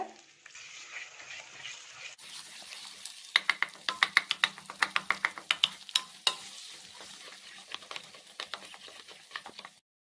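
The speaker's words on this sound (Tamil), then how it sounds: "இப்போ நம்ம 6 முட்டையும் உடச்சி ஆட் பண்ணியாச்சு. இப்போ நல்லா மிக்ஸ் பண்ணிக்கோங்க." Six eggs sizzle in a pan on a low flame as a spoon scrapes and stirs them into egg bhurji. The frying hiss is joined by a rapid run of sharp, close scraping taps in the middle of the clip.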